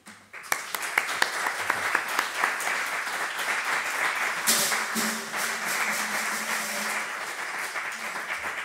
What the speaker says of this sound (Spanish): os pido un aplauso para ello